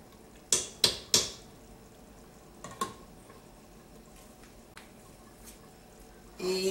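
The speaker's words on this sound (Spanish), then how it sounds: "Y revolvemos." A spoon stirs sweet potato pudding (boniatillo) with butter in a pot, giving three quick metallic clinks in succession, then a few softer taps and scrapes in an otherwise quiet kitchen.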